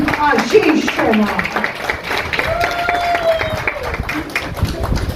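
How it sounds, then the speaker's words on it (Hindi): Clapping and cheering from the audience at a film music launch event, mixed with an announcer talking over a lively hall, the applause rising briefly under the voice. "जोरदार तालियां हो जाएं"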